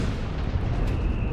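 Artillery barrage in Company of Heroes 3, heard as a continuous dense rumble of booms and bursts with no clear gaps, loud and close throughout.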